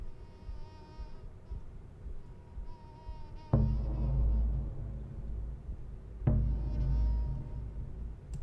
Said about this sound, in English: I hear a little bee in there or something.